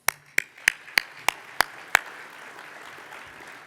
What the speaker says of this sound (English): Y'all are clapping very heavy.